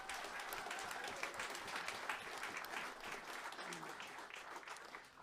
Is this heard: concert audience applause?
yes